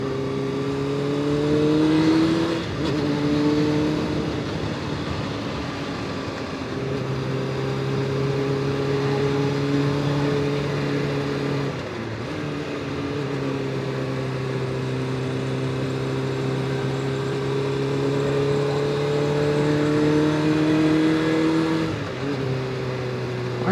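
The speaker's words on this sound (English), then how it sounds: "bike is running really good today" A 1999 Suzuki SRAD 600 motorcycle cruises a back road, its engine a steady close drone that rises and falls through gear changes and throttle shifts over about twenty-four seconds, with no one talking.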